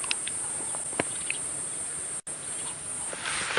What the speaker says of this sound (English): That's a cicada.